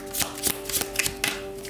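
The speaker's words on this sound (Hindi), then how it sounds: "तो चलिए शफल करके देखते हैं कार्ड्स को" Tarot cards being shuffled by hand in a short, close series of quick riffling bursts and soft taps, about five brisk flurries in under two seconds.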